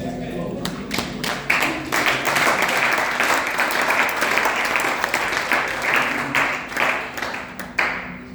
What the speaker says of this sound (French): Acclame aussi.